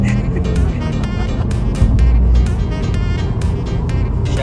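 Subaru WRX STI being driven, a loud steady engine drone and road roar from inside the car with a brief swell in the low rumble, continuous throughout.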